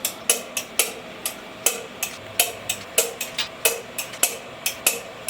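A torque wrench clicks sharply again and again as engine bolts are tightened to torque specification, about three clicks per second in a steady close rhythm with little else audible.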